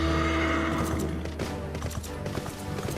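A horse neighs and whinnies in Final Fantasy XIV, with hooves clopping beneath a steady bed of game music, the sounds up close and fairly loud.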